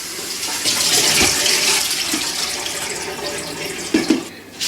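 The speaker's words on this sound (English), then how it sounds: "The next job is to just rinse them all." Salted eggplant slices rinsed under a running kitchen tap, a loud, steady rush of water with occasional splashes and knocks near the end.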